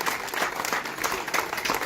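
A crowd applauds continuously at a youth sand yachting championship trophy ceremony, dense clapping from many hands filling the room without pause.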